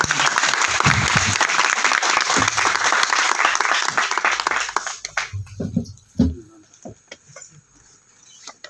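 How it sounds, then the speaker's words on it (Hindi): Loud, dense applause from a conference audience welcoming a speaker fills the first five seconds, then thins into scattered claps and murmuring as the crowd settles. "तो अपनी भरपूर तालियों में इस्तकबाल कीजिएगा ब्रिगेडियर रसीम"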